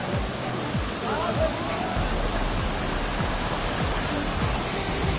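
Constant roaring rush of water from the Talon ni Eva waterfall in the Philippines, loud and unbroken, filling the whole scene with a dense hiss.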